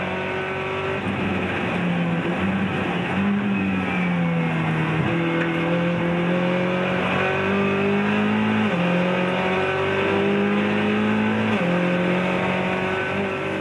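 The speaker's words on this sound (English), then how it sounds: "On board with the Middle East Rally champion and the new Scirocco Volkswagen." A Volkswagen Scirocco race car at the Nürburgring 24-hour race, heard from onboard, roars loud and continuous, its engine pitch climbing through gears with repeated drops at each shift.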